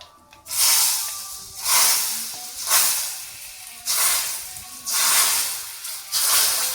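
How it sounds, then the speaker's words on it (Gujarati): Repeated bursts of loud hissing from asafoetida and spices tempering in hot oil, about six surges each rising and fading in a steady rhythm, close by and without speech. "વઘાર કરી નાખો"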